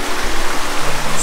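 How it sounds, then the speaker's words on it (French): A string of small cascading waterfalls pours one after another, a close, steady rushing wash of water that stays even and loud throughout, with no voices. "Toutes ces petites cascades qui s'enchaînent les unes après les autres."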